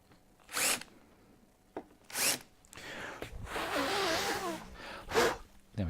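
A drill bores a countersink in wood in a few short bursts, with brief whirring spins separated by pauses and one longer grinding stretch, fairly quiet and close.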